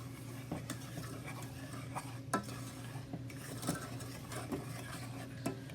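A no-bake cookie mixture being stirred in a pan on a stovetop over medium heat, a steady scraping swirl with occasional sharp clinks of the utensil against the pan, close and moderately quiet, with no talking.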